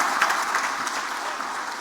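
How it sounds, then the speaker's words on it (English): Audience applause at a speech honouring Tinubu's reforms, a steady dense wash of clapping held at even volume throughout, with no voices on top. "I think this man deserves a big and a better round of applause"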